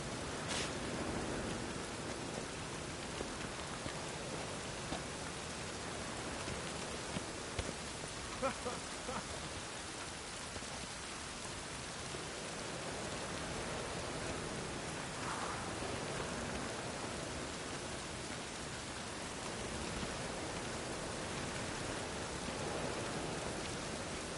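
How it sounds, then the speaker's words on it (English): Steady rainfall in the video game The Witcher 3, a constant hissing patter of drops spread evenly throughout, with a few sharper splashes and faint background sounds. "Looks like rain."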